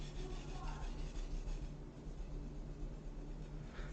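A chef knife is drawn across a sharpening stone, a soft continuous gritty rubbing scrape, quiet and close, with no talk.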